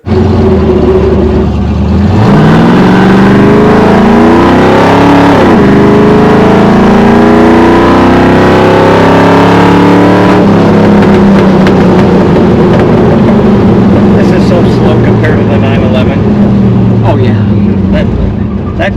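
Engine of a car revving hard and accelerating through the gears, with rising and falling pitch sweeps and loud sustained roar close by; voices speak over it.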